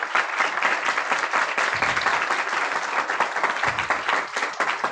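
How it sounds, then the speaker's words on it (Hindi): A church congregation at an Urdu sermon claps vigorously in a steady, dense burst, loud and close, with no voices over it. "यीशु के जलाल के लिए जोरदार ताली बजाएं"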